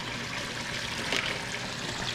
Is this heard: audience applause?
no